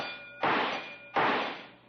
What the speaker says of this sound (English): If you hit the bullseye, the bell will ring.